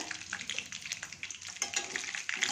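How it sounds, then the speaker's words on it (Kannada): Peanuts dropped into about three spoons of hot oil fry with uneven crackling and popping bursts over a soft bubbling sizzle, close and fairly quiet, with no voices. "ಎಣ್ಣೆ ಕಾದಿದೆ ಇವಾಗ ಒಂದು ಮೂರು ಸ್ಪೂನ್ ಕಡಲೆಕಾಯಿ ಬೀಜ ಹಾಕ್ತಾಯಿದ್ದೀನಿ ಇದೆಲ್ಲ ಸ್ವಲ್ಪ ಚಟಪಟ ಅಂತ"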